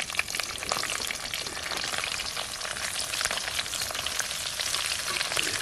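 Onion, green chili and garlic frying in oil for a tempering at an outdoor night cook-out for chicken, a steady dense crackling sizzle with faint stirring scrapes, close and fairly loud throughout with no talking.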